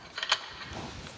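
Short metallic clicks and a ratcheting creak from cranking the adjusting screw of an old metal planer during leveling, a few brief clustered clicks near the start, then a low steady rumble, fairly quiet.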